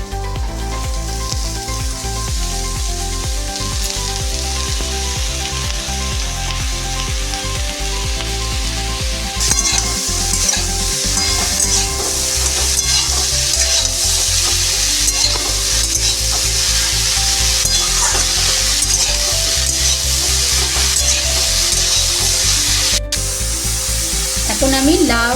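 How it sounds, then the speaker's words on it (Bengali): Bottle gourd, potato, carrot and drumstick sautéed in a pan for mung dal, making a loud, steady sizzle with continuous stirring and occasional clinks of a utensil, close up throughout. "এখন আমি লাউ, আলু, গাজর, ডাঁটা ভালো করে কষিয়ে নেব"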